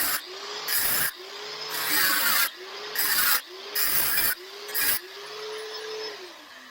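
A grinder fitted with a big disc cuts into metal and throws sparks. The harsh, loud cutting comes in about five bursts with short pauses between them.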